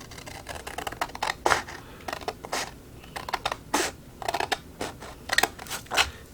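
Scissors cut a paper strip with a run of crisp, close snips in an uneven rhythm, each a short papery crunch, with no talk.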